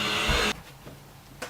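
A Hoover vacuum cleaner roars loudly and close for half a second, then cuts off abruptly, leaving quiet room sound with a couple of faint knocks.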